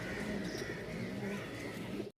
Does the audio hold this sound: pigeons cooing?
yes